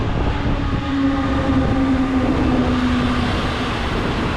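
The Intercity Delfin electric train EU 160 062, bound for Łeba, rumbles past at Warszawa Toruńska with a continuous loud rolling roar and a faint tonal whine, with no voices.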